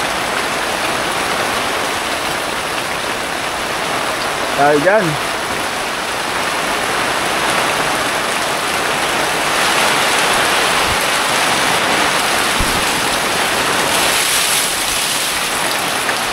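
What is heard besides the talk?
heavy rain falling on a farm during Typhoon Crising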